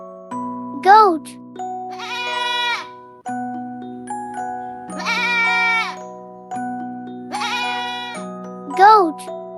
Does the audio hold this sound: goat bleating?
yes